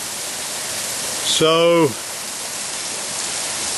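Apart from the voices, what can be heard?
Mallyan Spout waterfall cascading into river after rain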